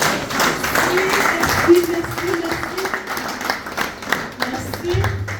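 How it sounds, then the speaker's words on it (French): Audience at a retirement celebration applauding, a dense steady wash of clapping throughout while a voice speaks over it. "Nous pouvons encore une fois applaudir et remercier pour félicitations"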